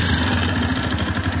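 A Minsk X250 enduro motorcycle engine idling after a new piston, rings and pin were fitted, running close with an even, steady low thrum and quick regular pulses and no knocking.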